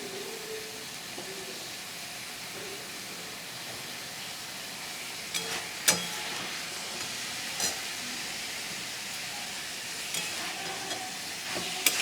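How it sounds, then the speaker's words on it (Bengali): Chopped cabbage, onion and spices are stirred in a frying pan over a steady hissing sizzle, with scattered sharp clicks and scrapes of the utensil and no voices. "এবার বন্ধুরা আমি ভালো করে মশলার সাথে সব এটা মিশিয়ে নেব।"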